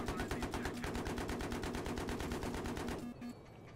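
Sustained automatic gunfire in the video game Battlefield 3, a rapid, loud, steady burst of shots lasting about three seconds before cutting off into a brief, quieter tail of in-game noise.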